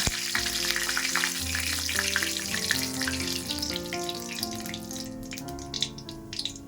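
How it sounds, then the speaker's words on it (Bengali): Bay leaf and cumin seeds tempering in hot oil left from frying potato and cauliflower, a loud dense crackling sizzle that fills the clip and slowly eases, with a faint ringing tone beneath. "এই তেলে তেজপাতা আর জিরে দিয়ে ফোড়ন দেবো"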